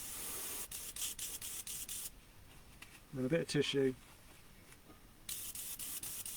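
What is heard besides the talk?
airbrush spraying out cleaner into a box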